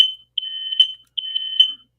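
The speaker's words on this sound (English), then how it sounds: "that is a fire alarm." A smoke-style fire alarm going off indoors, two loud, sharp electronic shrieking bursts, each under a second long, with a brief gap between them and nothing else around.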